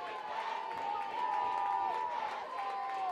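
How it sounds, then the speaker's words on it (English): A packed high school football crowd at a Sauk County bowl game, a steady loud roar of cheering voices and noise with a sustained tone running through it, continuous for the whole stretch. "Crowd making a lot of noise here in Sauk."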